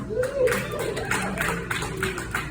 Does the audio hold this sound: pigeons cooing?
no